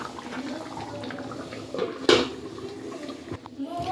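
A pan lid clatters down once, clear and fairly close, over a pan of hilsa fish simmering with water, two chillies and mustard oil on a gas stove. A steady low cooking hiss runs underneath.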